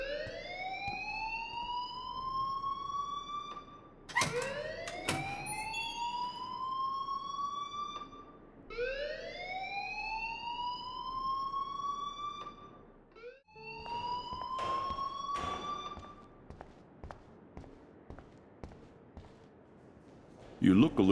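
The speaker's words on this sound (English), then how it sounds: "please turn off that alarm since that's your job" A loud electronic alarm in the Life Is Strange video game wails in repeated rising sweeps, about every four seconds, sounding steadily under voices talking nearby.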